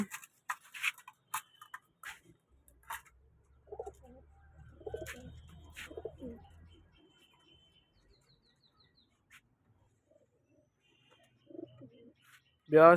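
Soft pigeons cooing now and then in a quiet indoor space, with scattered light clicks, scratches and a brief low hum.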